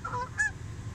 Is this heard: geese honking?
yes